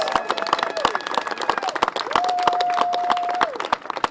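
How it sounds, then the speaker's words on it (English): Crowd applause at a public event with officials, scattered sharp claps over a steady murmur, mixed with a sustained tone and a voice. "Give him a round of applause."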